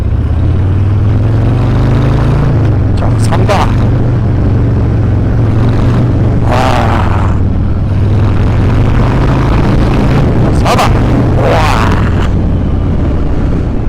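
A Harley-Davidson Breakout 114 with a Jekyll & Hyde muffler accelerates on the road, its deep exhaust rumble swelling through several loud revving surges, with a few brief spoken words.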